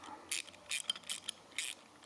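A 12mm ratcheting wrench turning a nut on a Triumph Thruxton RS motorcycle, four quick bursts of crisp clicking, close and quiet with nothing else heard.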